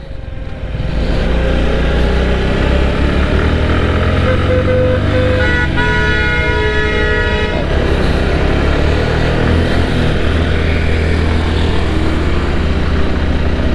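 Motorcycle engine running steadily on a steep mountain road, a loud continuous drone close to the rider, with a vehicle horn sounding in the middle.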